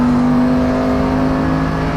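Mercedes-AMG GT3 race car on the JunChi circuit pulling out of a corner at full power, its engine holding a loud, steady high-revving drone with strong harmonics, close up from the cockpit.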